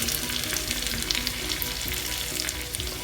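Curry leaves and halved dried red chillies frying in hot oil for a yam erissery, giving a dense, even crackling sizzle that stays loud and close throughout with no speech.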